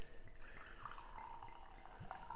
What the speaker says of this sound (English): Go ahead and pour myself a little taste.